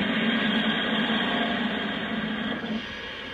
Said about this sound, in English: We also do have a blowdown effect.